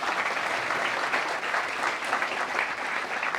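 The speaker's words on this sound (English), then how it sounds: "Let us again welcome him with a warm round of applause." An audience gives a sustained, dense round of clapping at a formal youth programme event in a hall, loud and steady throughout with no voices on top.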